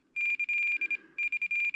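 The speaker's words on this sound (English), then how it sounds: "Battery alarm." An RC plane transmitter for an E-flite Sportix 1.1m sounds its battery alarm, a close, thin electronic beeping in quick pulses with one short break, fairly quiet and alone.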